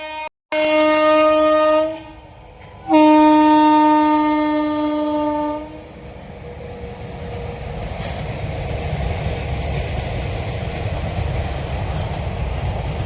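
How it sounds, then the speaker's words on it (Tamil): A freight train blasts its horn in two long, loud, tonal bursts, then a low rolling rumble of wagons builds steadily as it passes close by, with no talking. "இது ஆக்சுவலி ரியலாக ஏதோ சரக்கு எடுத்து போயிட்டு இருக்க ட்ரெயின்"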